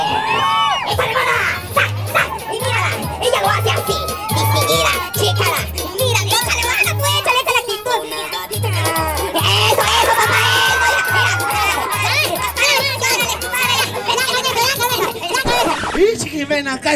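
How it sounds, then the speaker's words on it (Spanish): Audience members at a live comedy show shout and cheer loudly together, crowd noise rising over a thumping DJ beat, with a host speaking into a microphone. "¡El grito de los hombres!"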